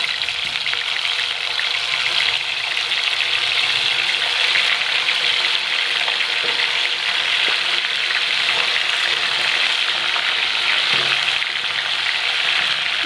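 Chicken feet deep fry in hot oil in a kadai with a loud, dense, continuous sizzle and crackle that holds steady the whole time, dotted with small pops and without any voices.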